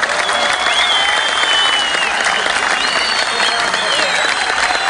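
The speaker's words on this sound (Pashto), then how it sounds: "ښه یې ورته چکچکې وکړئ" An audience at a Pashto poetry event claps loudly and steadily without pause, with a few whistle-like tones rising above the dense applause.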